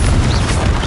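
A Confringo blasting spell fires in the Hogwarts Legacy video game, a dense, loud, low-heavy boom that rumbles steadily through the brief moment.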